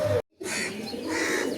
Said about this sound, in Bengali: আপনাদেরকে সবাইকে আমি কিছু পায়রা শখ করাবো